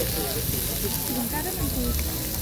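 Pork belly sizzling on an outdoor grill, a steady close crackle and hiss of frying fat with occasional pops, with people talking faintly underneath.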